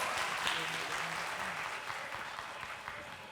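An audience at a youth talent show season finale applauds after a performance, giving dense, steady clapping that fills the room, with voices mixed in underneath.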